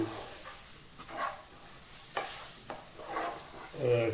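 Coconut-based chicken curry stirred after spice powders and garam masala go in, with soft repeated scraping strokes and a few clinks over a faint sizzle, close and moderately quiet, with no voices.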